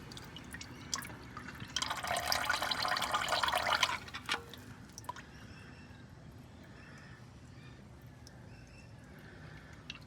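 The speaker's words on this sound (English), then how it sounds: "We'll drain the oil out of the oil filter." Oil drains from the oil filter housing of a Toyota 2GR-FE V6, a close, loud gush of liquid lasting about two seconds, then quiet drips and faint trickling over a low background.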